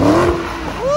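A drift car's engine whines as it passes close, with a loud, sliding high-pitched tone that drops and then climbs again.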